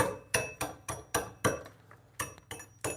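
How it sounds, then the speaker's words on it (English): Mallet striking a chisel to trim bark from a wood stump: about ten sharp, evenly spaced knocks, close and clear, with no talking. "Go around with a mallet and a chisel."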